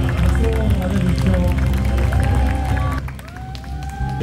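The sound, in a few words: audience applause at an awards ceremony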